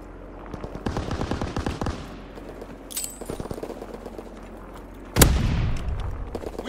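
Enemy aircraft strafing run in Call of Duty WW2, with quick bursts of machine-gun fire and scattered shots, then a sharp loud boom that rumbles out, all fairly close and without talking.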